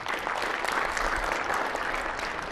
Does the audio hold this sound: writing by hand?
no